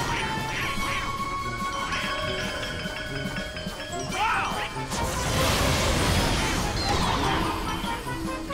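Ducks quacking in the Team Fortress 2 Halloween carnival map, a few short nasal quacks amid game action, followed by a loud crash and rushing clatter.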